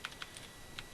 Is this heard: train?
no